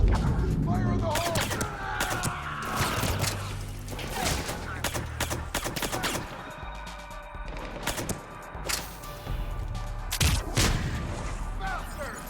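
A grenade blast and gunfire in Mass Effect 3, with dense rapid shots, heavy booms and thuds piling over one another throughout, loud and close, with some voices mixed in.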